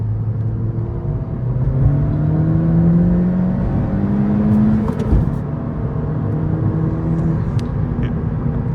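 A 10th-gen Honda Civic Si in sport mode accelerates hard from inside the cabin, its engine drone rising in pitch through successive gear pulls over a loud, steady road rumble, with a brief knock partway through.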